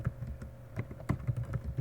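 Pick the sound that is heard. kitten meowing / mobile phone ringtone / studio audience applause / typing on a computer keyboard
typing on a computer keyboard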